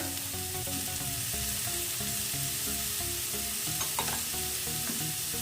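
Capsicum and carrot are stirred in a hot frying pan while preparing a sunflower parantha, giving steady scraping and stirring strokes over a soft, continuous sizzle, close and fairly quiet.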